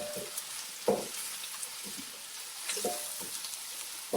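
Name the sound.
chopped ginger and garlic frying with onions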